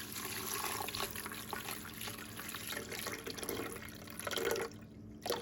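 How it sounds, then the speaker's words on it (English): Water pours and trickles into a mixing bowl while making herbed garlic gluten-free bread, a steady splashing fill with dripping that fades near the end, fairly close and without talk. "we're gonna put the water in here."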